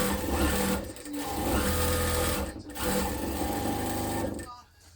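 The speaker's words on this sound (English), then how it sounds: "sew the rest of them up in pairs of 2" A sewing machine stitches knit shirt pieces together in pairs for a memory quilt, its steady whirring runs broken by short pauses between seams, close and loud throughout.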